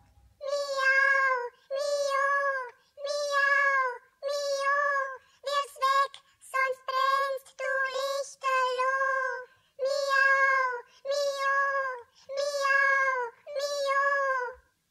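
Cats in a German audio drama meow over and over in a steady series of about a dozen loud, close, tonal cries, some short and clipped, with no talking among them.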